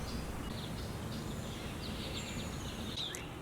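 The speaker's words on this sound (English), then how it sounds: "listening to all of the birds" Faint birdsong at a wooded campsite near Philadelphia, with thin chirps and short whistled calls drifting over a steady background hiss, no voices present.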